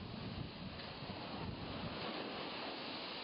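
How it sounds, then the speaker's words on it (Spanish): Ocean surf rolls onto the beaches of Guayas and the Santa Elena peninsula during a period of heavy swell, a continuous broad roar of breaking waves mixed with wind buffeting the microphone, steady and loud with no voices. "El oleaje golpeó los balnearios del Guayas y la península de Santa Elena"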